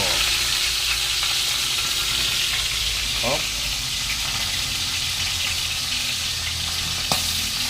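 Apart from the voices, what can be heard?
fish frying in a pan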